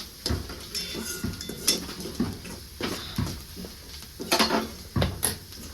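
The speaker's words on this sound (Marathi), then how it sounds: "कांद्यासोबत हे सगळे मसाले छान असं मिक्स करून घेते" Onion and ground spices, including red chili powder, stirred together in a pan for a quick dal-onion dish, heard as repeated close scraping and clinking of a spoon against the pan with no talk.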